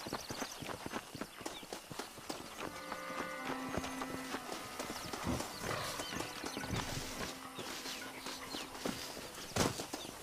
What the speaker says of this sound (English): My brother has given us his stagecoach. They are good horses.